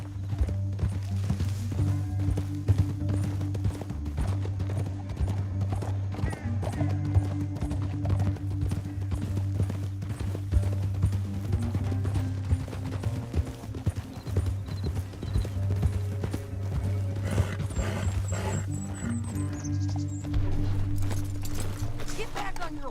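Horse hooves clip-clopping in the video game Red Dead Redemption II, a steady rhythmic trot running continuously under a low musical score, with occasional whinnies and distant gunfire, and voices talking over it.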